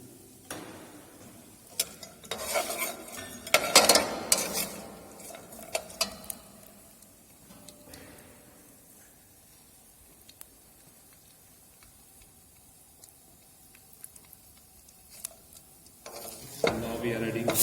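Dried fruits, cashews and raisins dropped into a hot pan, giving bursts of sizzling and stirring clatter early on, then a quieter low sizzle with occasional scrapes and a louder stir near the end.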